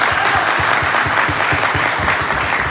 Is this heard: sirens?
no